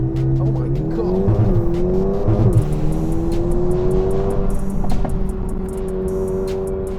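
A Mercedes-AMG A35 accelerates, its engine tone rising loudly through the revs, with brief tyre chirps early on and faint voices in the background.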